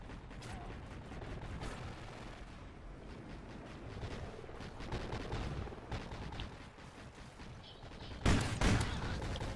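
Gunfire in the video game Call of Duty: Ghosts, a dense, continuous run of rapid shots and rattling bursts at low volume, with a louder, sharper burst near the end.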